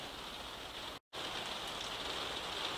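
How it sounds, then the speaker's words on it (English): Heavy rain pouring down outdoors, a steady dense hiss of drops striking surfaces that stays loud throughout apart from one brief gap. "it's absolutely throwing it down with the rain outside"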